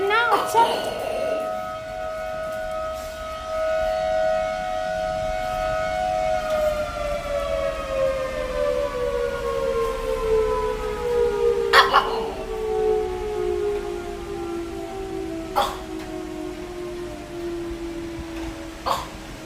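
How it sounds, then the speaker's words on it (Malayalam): A long wailing siren from a defense area drones steadily, then its pitch slowly sinks over many seconds; a few sharp knocks and faint voices come through in the background. "നമ്മളുടെ പടിഞ്ഞാറ് സൈഡ് ഡിഫൻസ് ഏരിയയാണ് അവിടെ നിന്ന് സൈറൺ മുഴങ്ങാൻ തുടങ്ങിയിട്ട"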